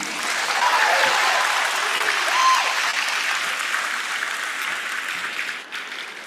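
Audience applause for Boogie at a talk with freshmen, a steady sustained wash of clapping from a crowd, fairly loud and close, tapering slightly toward the end.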